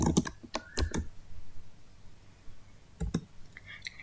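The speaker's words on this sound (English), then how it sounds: "I'm going to type a certain query so that it can reply me back." Someone types a chatbot query on a computer keyboard, making bursts of close, crisp key clicks separated by a quiet pause.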